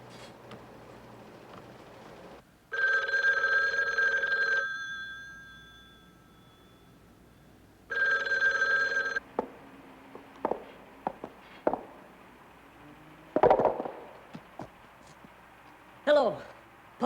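An old-style telephone bell rings in two long bursts, followed by clicks and knocks as the receiver is handled.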